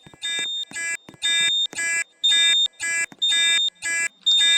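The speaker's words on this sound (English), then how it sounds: "Yeah, there it goes, beeping again." A loud video game fire alarm sounds in short repeated bursts, about two per second, a shrill harsh tone pulsing on and off with no talking.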